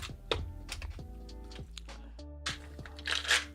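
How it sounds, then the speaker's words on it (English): Rune or tarot cards are shuffled by hand in a quiet room, giving a string of close, dry clicks and riffling snaps that stop and start several times. "Gotta shuffle them up."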